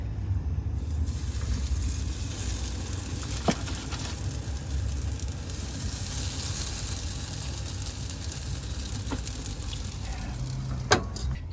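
Gozleme flatbreads fry two at a time in a preheated Ridge Monkey pan, giving a steady close sizzle with low rumbling throughout and a couple of sharp clicks.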